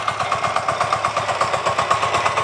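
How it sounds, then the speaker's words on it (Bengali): Mini power tiller engine running during a live demonstration, a loud close rapid chugging with an even pulsing rhythm and steady mechanical drone throughout. "এটি খুবই পাওয়ারফুল একটি ইঞ্জিন, খুবই পাওয়ারফুল একটি মেশিন।"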